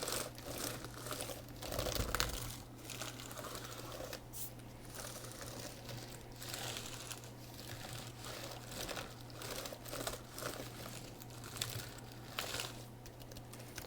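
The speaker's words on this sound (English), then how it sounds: "The keyboard's pretty crunchy." Worn keys on a 2015 13-inch MacBook Air (A1466) keyboard are pressed over and over, giving faint, crunchy, irregular clicks against a steady low hum.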